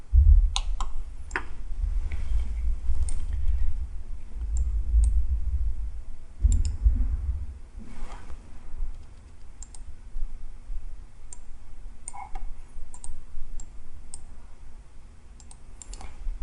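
A computer mouse clicks while working in Autodesk Inventor CAD software: sparse, crisp, close clicks, some in quick pairs, over a low steady hum.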